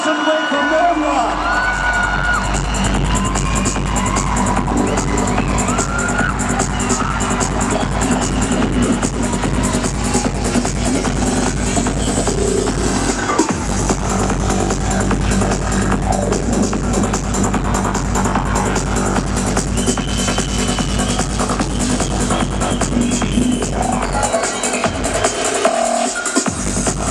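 A large crowd at a mall fashion show claps and cheers loudly for actor Kunchacko Boban's appearance, with whoops and shouts layered over continuous dense applause throughout, a voice briefly heard amid the din.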